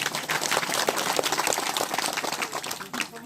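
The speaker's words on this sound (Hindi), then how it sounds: "जोर से ताली बजाइए" A crowd at a local political gathering with a legislator claps on request. The clapping is dense and continuous, with crisp individual claps throughout and no talk over it.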